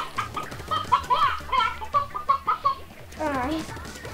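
Chickens cluck in short, rhythmic bursts over a steady thumping beat, with a higher rising squawk near the end, sounding close and fairly loud.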